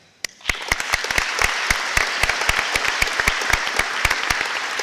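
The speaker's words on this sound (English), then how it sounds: "This deserves extra applause." Sustained applause from an audience at a middle school academic awards assembly, with dense clapping throughout and sharper individual claps standing out, steady and fairly loud.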